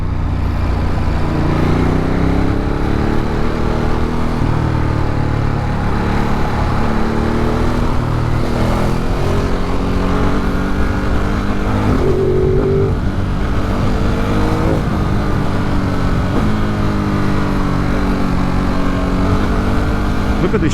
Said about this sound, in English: this bike makes all the right noises